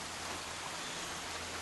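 Steady rain falling, a faint, even hiss of drops on surfaces that continues unbroken, with no voices.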